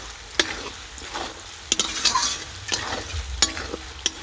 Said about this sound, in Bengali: ততক্ষণ আমরা ভাজতে থাকবো